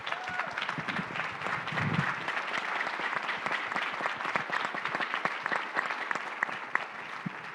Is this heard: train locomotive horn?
no